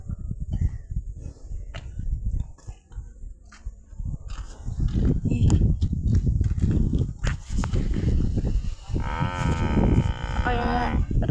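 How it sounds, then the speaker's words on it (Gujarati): A buffalo calf moos in a rural livestock setting, a drawn-out nasal call rising near the end over rustling, hoof movement and background voices. "આ દેવરાસ કેવો છે આપણો પાડા"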